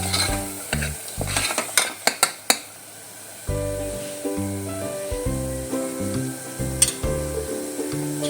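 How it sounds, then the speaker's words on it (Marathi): Chopped tomato stirred into oily frying masala for a spicy pea and potato curry, heard as a close sizzle broken by sharp scrapes and clacks of a spoon against the pan, with no one speaking. "आता आपण ह्याच्यामध्ये टमाटा ॲड करणार आहोत तो पण चांगला मिक्स करून घ्यायचा आहे आपल्याला"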